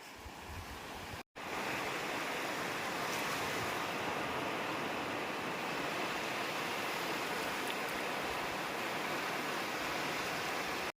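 Sea waves wash onto the beach at Henry Island, a continuous loud roar of surf with some wind buffeting the microphone and a brief dropout near the start.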